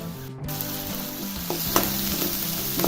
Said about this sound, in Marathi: त्यामध्ये आता आले लसूण पेस्ट टाकायचे